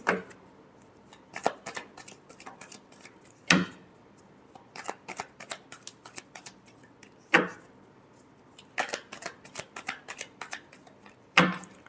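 Tarot cards are shuffled in repeated bursts of quick riffling flutters, with sharper slaps roughly every few seconds as the deck is squared, close and fairly quiet with no talking.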